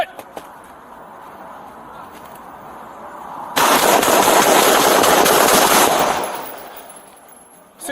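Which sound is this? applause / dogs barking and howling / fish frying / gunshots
gunshots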